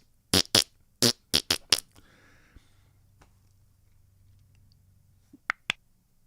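Cartoonish fart sound effects from the dirt-made muckmen creatures in the 1986 horror film Spookies: a quick burst of several sharp, wet blasts, then a low rumbling lull and two more short pops near the end.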